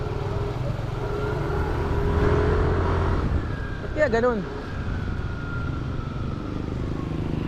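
A motorcycle engine sputters and revs unevenly on the road as it runs short of fuel, a continuous close rumble with a brief surge near the middle, while someone talks over it.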